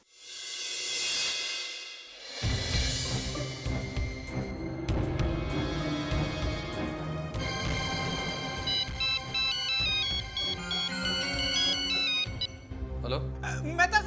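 A phone rings with a melodic electronic ringtone for an incoming call, loud and continuous, with the tune looping over background noise after a brief swell at the start.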